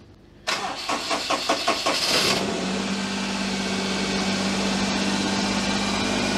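A Daihatsu Charade with a swapped engine cranks with a rapid churning rhythm, fires up, then settles into a loud, steady fast idle that holds to the end.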